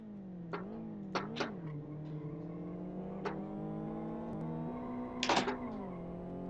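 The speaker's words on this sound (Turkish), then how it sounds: "Otomobil sesini azıcık açalım" Car engine in the racing game Live for Speed, a steady droning hum with rising and falling pitch as the revs change, plus a few sharper shifts and blips, played alone at moderate volume.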